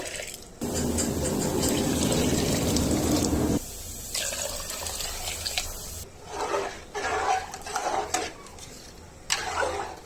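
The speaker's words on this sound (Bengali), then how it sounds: "পরিমাপ মতন পানি দিয়ে দিব" Water pours into a pot of lentils and rice for thin khichuri, a steady loud gush for about three seconds, then quieter scraping and handling sounds in the kitchen.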